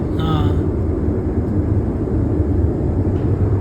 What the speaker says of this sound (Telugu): విమానాల బాత్రూమ్ ఇది